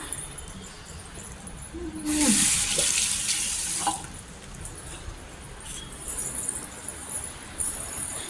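Water runs from a tap in a strong burst for about two seconds, then continues more quietly with faint splashing and small clinks.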